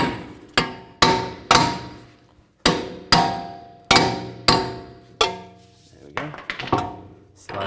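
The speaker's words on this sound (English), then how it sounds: "Just hit the back side with a hammer." Sharp metallic hammer blows on the back of a rear wheel hub of a 2013-19 Ford Police Interceptor Utility ring out one after another at an uneven pace, about a dozen strikes, close and loud, each decaying quickly.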